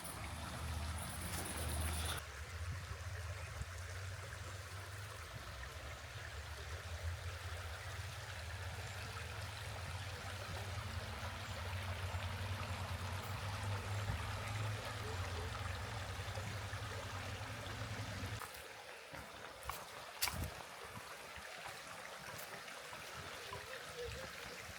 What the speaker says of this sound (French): c'est un coin très paisible, à côté de la rivière